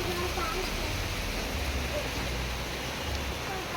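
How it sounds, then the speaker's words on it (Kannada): Heavy rain pours down in a steady, dense hiss that fills the whole clip without letting up. "ಮತ್ತೆ ಮಳೆ ಸುರಿತಾ ಇದೆ"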